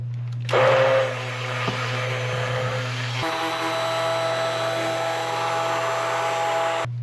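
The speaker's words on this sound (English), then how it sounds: "if it would be advantageous for me to use my immersion blender for this step" An immersion blender purees roasted, slightly stringy pumpkin, its steady loud motor whir running for several seconds with a brief start and a shift in pitch partway through.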